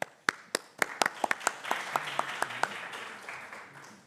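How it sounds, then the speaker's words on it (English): Applause at a clinical case symposium after a presentation: a few sharp, separate claps open it, then more hands join into scattered, moderate clapping that thins out toward the end. "applause"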